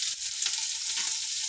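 Onion, garlic and ginger fry in hot oil with cumin and mustard seeds, a short burst of close, bright sizzling with a faint scrape partway through.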